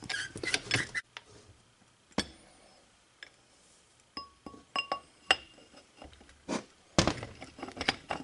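Metal parts in a 4L80E transmission knocking and seating, a series of sharp metallic clinks and thumps at irregular intervals, some ringing briefly, close and fairly quiet between hits.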